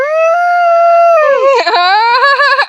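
A dog howls loud and close, a long sustained tone that wavers and breaks into shorter whimpering howls near the end.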